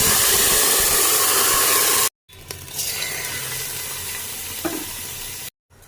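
Rice goes into a pan of cumin and garam masala frying in oil for a cumin and pea pulao, with a loud steady sizzle that breaks off, then quieter stirring and frying.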